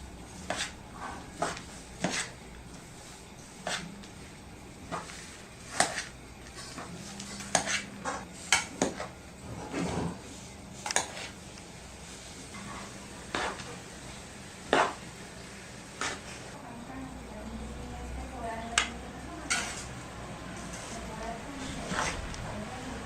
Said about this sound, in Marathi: हे जे साजूक तूप आहे हे आपण आता ह्याच्यात मिक्स करून घेऊया